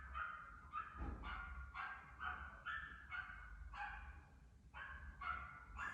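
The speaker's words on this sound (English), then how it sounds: "Doggies are out." Dogs barking outdoors at night, a steady run of repeated barks and yips from more than one animal at moderate distance, overlapping in an irregular rhythm with no talk.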